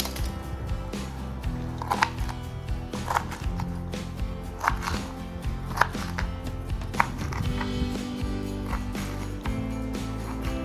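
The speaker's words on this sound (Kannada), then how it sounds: "ನೋಡಿ ಈ ಥರ ಹೆಚ್ಕೋಬೇಕು ಕತ್ತಿಲಿ" A knife chops banana flower on a board, a steady series of close, sharp knocks repeating roughly every second with some softer cuts between, over a constant low background hum.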